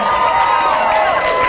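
A poetry slam audience cheers and applauds, with loud mixed clapping and shouting filling the short burst.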